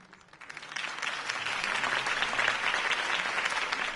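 A crowd in the video game Batman: The Telltale Series breaks into applause after a campaign speech, rising quickly to sustained clapping that carries on steadily at moderate volume.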